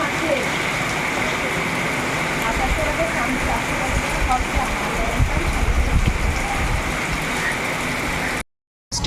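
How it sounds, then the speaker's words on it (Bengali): Steady rain falls outdoors, a continuous broadband hiss with patter on surfaces, loud and unbroken for most of the stretch before a brief dropout at the end. "বৃষ্টি নেমে গেছে দেখো"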